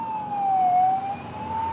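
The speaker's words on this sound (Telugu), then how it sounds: "ఇంకానే ఫైర్ ఇంజన్ వెళ్తుంది" A fire engine siren wails on a road in Kerala, heard from a moving scooter, a clear wavering tone rising and falling over a low rush of road and engine noise, without speech.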